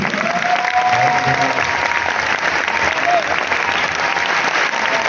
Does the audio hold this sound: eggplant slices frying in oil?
no